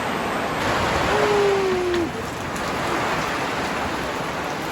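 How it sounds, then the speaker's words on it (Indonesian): Rain falls steadily on a mountain trail at a rest post high on Mount Sindoro in Central Java, a dense continuous hiss with a brief faint tone partway through. "Alhamdulillah berkah hujan."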